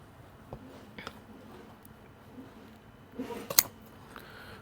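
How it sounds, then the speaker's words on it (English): Sharp upholstery shears snipping through fabric material during a boat trailer bunk rebuild: a few scattered soft cuts, then a quick cluster of crisp snips near the end, close and fairly quiet with no talking. "Now these are incredibly sharp shears."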